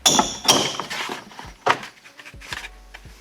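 Rear interior door panel on a 2004–2008 Ford F150 being pried off, giving a series of sharp plastic clicks, thunks and snaps from clips releasing, close and fairly loud with short gaps between.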